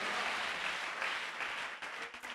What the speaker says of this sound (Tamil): என்ன விசுவாச கைத்தட்டு